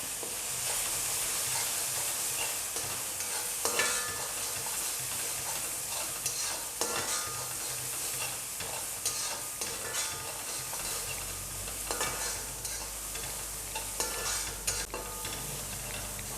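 Fennel and pepper powder stirred in a hot pan, a soft continuous sizzle with scraping spoon strokes and occasional clinks, close and alone.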